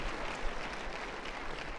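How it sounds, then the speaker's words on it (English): Audience at a World Trade Day event gives a round of applause, a steady, fairly faint wash of clapping over the short stretch. "let's have a round of applause for my old high school principal"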